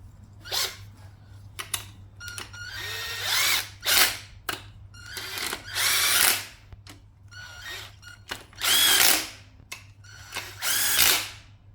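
Power tool tightens an engine bolt during a 2001–2007 Nissan X-Trail head gasket overhaul, firing in repeated short whirring and rattling bursts separated by pauses, close and fairly loud.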